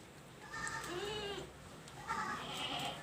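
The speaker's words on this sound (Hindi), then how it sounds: "आंडू बकरा है ये" A six-month-old uncastrated male goat gives two clear, wavering bleats a moment apart, close by in quiet surroundings.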